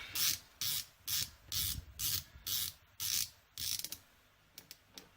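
Screws being tightened on an EKWB Supremacy EVO water block while the jet plate is changed, giving eight or so crisp ratcheting clicks in quick bursts, then a few lighter ticks at the end, close and without talk.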